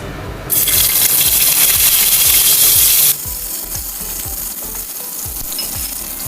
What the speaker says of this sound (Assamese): এতিয়া কাটি থোৱা বিলাহীটো ভাজি কৰি ল'ম।